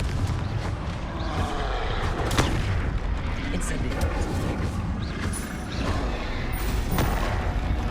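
Explosive Confringo spell blasts in the Hogwarts Legacy video game: a dense barrage of booms and crackling impacts rolls on continuously, with sharp cracks standing out and a voice talking over the combat.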